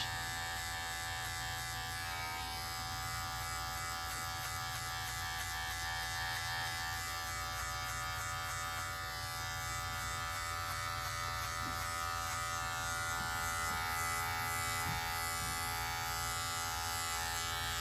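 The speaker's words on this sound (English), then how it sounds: "See how the clipper is going into the head but coming out as he's approaching the parietal ridge." Electric hair clipper buzzing steadily and continuously while cutting a fade blended up toward the parietal ridge, a close, constant drone with no talking.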